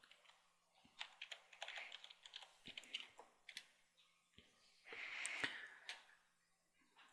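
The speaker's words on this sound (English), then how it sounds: "So key in your username and password you selected." A username and password are typed on a computer keyboard, with quiet, close keystrokes in short irregular bursts and pauses, plus a faint low hum.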